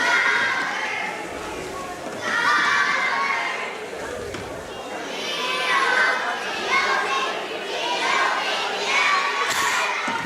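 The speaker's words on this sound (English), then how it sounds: "these little elementary cheerleaders are kind of fun. Yep, with their pom-poms and cheering." Young elementary cheerleaders with pom-poms cheer at a boys wrestling meet, their high voices chanting and shouting in waves over a noisy gym crowd, with other talk mixed in.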